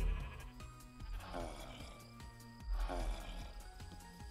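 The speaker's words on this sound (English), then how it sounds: "A sheep is in your way." Sheep bleat twice in the Minecraft video game, two drawn-out wavering calls laid over constant music, moderately loud.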